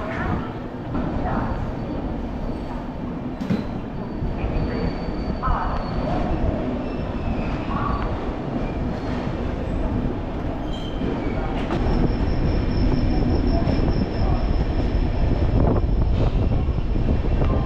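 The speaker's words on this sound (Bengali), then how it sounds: "2 মিনিট স্টপেজ দিয়ে আবার আমাদের ট্রেন ডিপার্চার হয়ে গেল" The Gyaneshwari Express, train 12102 from Shalimar to Mumbai, pulls out of a junction station at night and runs on, heard from inside as steady wheel rumble and rattling with squeals and clanks, and some background voices.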